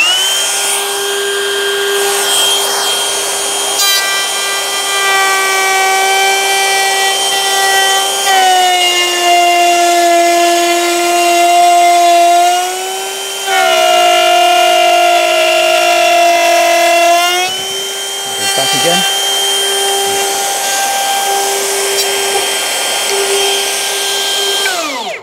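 Hikoki battery-powered half-inch router cutting a joint through a kitchen worktop, a loud steady high whine with strong harmonics that shifts pitch as the cutter loads and eases, running nearly continuously and close by, with no talk.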